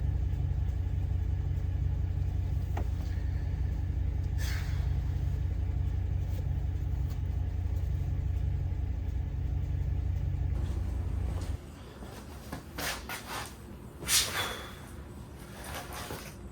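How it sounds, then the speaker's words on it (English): A 2010 Ram 1500 with a Hemi engine idling with a multiple-cylinder misfire. It gives a steady, uneven low rumble for about eleven seconds before it drops away, followed by quieter clicks and handling noises close by. "So I'm reading trouble code, and yeah, multiple cylinder misfire, even on idle."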